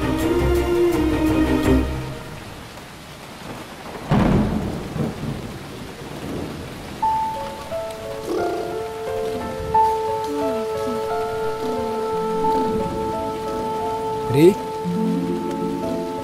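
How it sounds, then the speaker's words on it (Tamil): Heavy rain pours steadily outdoors while a loud thunderclap booms and rumbles, with music and faint voices mixed in over the constant rain hiss. "இப்படி கொட்ட மழையில நனைஞ்சா கை கால் எல்லாம் வரைச்சு போடுண்டா"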